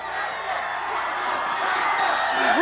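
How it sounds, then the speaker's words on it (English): A college basketball crowd at Temple University cheers after a 1991 NCAA Tournament game, a dense, steady roar of voices and whoops that swells slightly toward the end, with some talk mixed in. "They've got their "We Want UNLV" signs. They're cheering."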